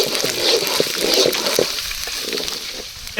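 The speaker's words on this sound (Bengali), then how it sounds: "মাছ ডাউল ঢেলে দিচ্ছি আমি এখন" Fish dal poured into a hot pan at an outdoor village picnic, giving a steady hissing sizzle and bubbling with brief stirring clatters, close and fairly loud.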